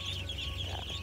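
Ducklings on a duck farm keep up a faint, continuous chorus of high peeping over a low background hum, with no talking.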